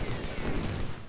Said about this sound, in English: Oh, that's a cannon.